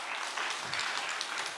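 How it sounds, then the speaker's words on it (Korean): A room full of people at a church seminar claps continuously, a dense, level wash of applause with scattered louder hand claps and no talking over it. "100명 박수치고."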